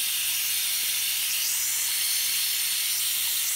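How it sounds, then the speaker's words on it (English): Steam hisses steadily from a leaking pressure release valve on an Instant Pot that won't stop leaking even when seated, a continuous close, bright hiss with no talk. "the valve will not stop leaking even when you seat it"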